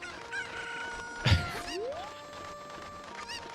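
Cuccos cluck and squawk in Ocarina of Time with scattered chirpy calls over steady game music, plus a thump and a rising synthetic swoop partway through.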